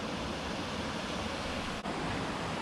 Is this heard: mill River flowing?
yes